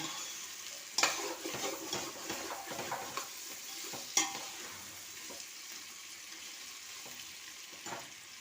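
A pot of vegetable biryani masala being stirred, with scraping strokes, a few sharp clinks and a soft sizzle throughout, close and quiet with no voice.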